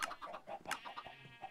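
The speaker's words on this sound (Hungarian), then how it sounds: "Mennyi csirke." Chickens clucking in the Minecraft video game, a crowded flock giving repeated short, overlapping clucks close by in a steady busy stream.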